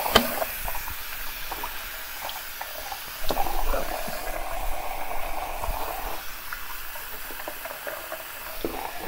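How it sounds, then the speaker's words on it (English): Hot water runs from a tap at a shaving sink on a cold day, a steady hissing splash that holds throughout and swells a little partway through, with no talking. "Had the hot water going"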